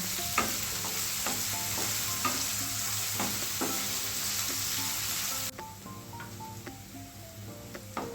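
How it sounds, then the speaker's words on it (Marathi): Chopped onion, curry leaves and green chilies sautéing in a pan, a continuous sizzle with repeated spatula scrapes and taps, growing somewhat quieter toward the end. "तर आपला कांदा छान परतलेला आहे"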